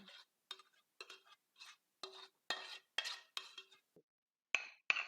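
A cauliflower rice salad is scooped from a pan into a bowl and mixed, making a close series of about a dozen short metallic scrapes and clinks of a utensil against cookware, separated by brief silences, with no talking.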